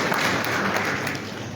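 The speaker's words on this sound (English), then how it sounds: "Let's give him a round of applause," Steady broadband applause from an audience welcoming the Director General to the podium at a central bank governors' committee meeting in Liberia, sustained and even throughout.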